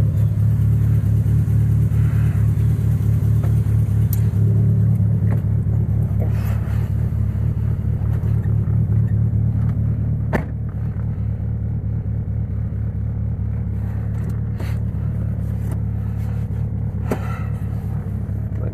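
A Mitsubishi Lancer Evolution X drives along the road with a steady low engine hum and road rumble heard from inside, easing slightly in pitch partway through.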